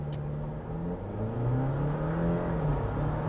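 A 2025 Jeep Wrangler Willys 4xe '41 Special Edition accelerates hard from a launch at full throttle, a steady droning engine and drivetrain whir rising in pitch, continuous and loud with road noise throughout.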